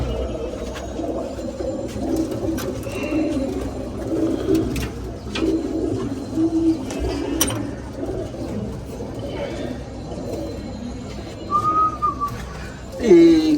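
Pigeons in a rooftop loft coo steadily and softly through a low, noisy background, with a few sharper whistle-like calls near the end.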